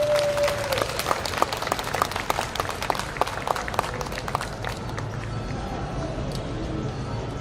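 Scattered audience applause at an outdoor memorial culture event, a moderate patter of claps that thins and fades toward the end, with faint voices and background noise underneath.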